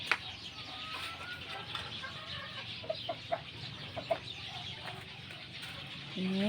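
Soft clucking from fighting roosters in a yard, a few short, separate calls spread out over a quiet murmuring background, with a brief louder sound near the end.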